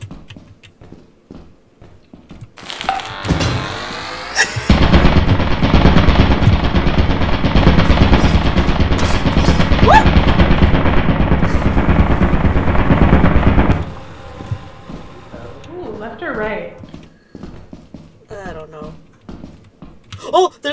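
Turret machine gun fire in the Lethal Company video game: a loud, sustained burst of rapid gunfire lasting around nine seconds, with people talking and reacting before and after it.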